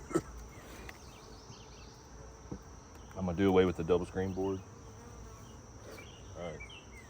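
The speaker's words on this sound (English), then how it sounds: "Look at all them bees." Honey bees swarm and buzz around an opened hive during queen grafting, a steady insect drone with louder close passes midway, while a beekeeper talks over it.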